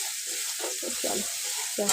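Fish frying lightly in a pan gives a steady, soft sizzling hiss, with faint stirring and low background sounds underneath.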